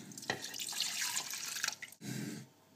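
Milk pours into a Thermochef jug over powder at the bottom, a close, steady liquid splashing and trickling sound for about two seconds, then a brief stop and a short lower-pitched burst of pouring.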